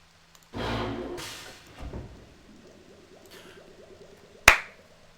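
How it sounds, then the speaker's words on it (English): A single sharp, loud hand clap rings out near the end of a quiet room recording, preceded by soft rustling and movement. "Sorry for the loud clap"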